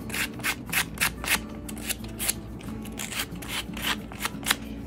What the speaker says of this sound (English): You just want to run a little sandpaper over them.